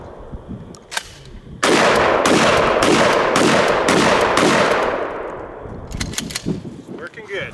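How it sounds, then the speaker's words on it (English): A 12 gauge Remington 870 style pump shotgun fired outdoors at a range. Several loud booming blasts come in quick succession and ring out into a reverberant tail, with quieter clicks and handling noises before and after. "gonna shoot the shotgun today"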